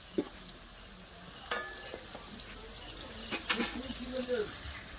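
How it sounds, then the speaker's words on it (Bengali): Potatoes frying in a pan for a meat curry hiss with a soft, steady sizzle, broken by a few utensil clinks and stirring scrapes, while faint voices murmur in the background. "এখানে মাংসের আলু ভাজা হচ্ছে"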